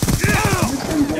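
Rapid automatic gunfire from Black Ops 2 rattles out in a quick, loud burst of shots, then trails off as a voice talks over the game sound.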